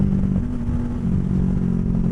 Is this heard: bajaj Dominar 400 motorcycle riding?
yes